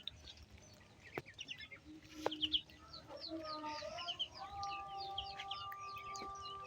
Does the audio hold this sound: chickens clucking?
yes